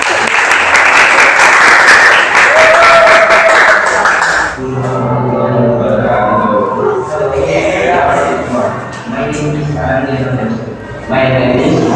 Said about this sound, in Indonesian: Tepuk tangan dulu dong kelompok 1.